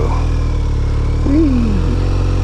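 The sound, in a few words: BMW R 1250 RS motorcycle engine with Akrapovic open headers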